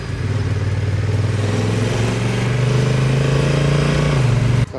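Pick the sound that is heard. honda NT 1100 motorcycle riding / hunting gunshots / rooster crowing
honda NT 1100 motorcycle riding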